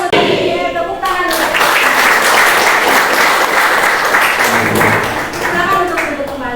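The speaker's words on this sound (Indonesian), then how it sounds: "Silakan berdiri. Tepuk tangan." A high school biology class claps together, a loud, dense burst of applause that rises and holds for several seconds, with a voice speaking before and after.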